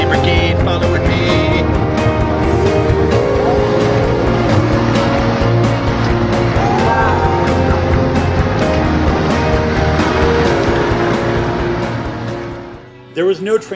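A group of motorcycles rides together on a Cambodian road. Engines rumble and whine loudly and close for several seconds, traffic noise and horns mix in, talk runs underneath, and the sound drops away abruptly near the end.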